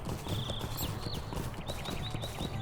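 Horse hooves clip-clopping steadily in the Shire in the Lord of the Rings Online game, close and continuous, with bird chirps over a soft outdoor ambience.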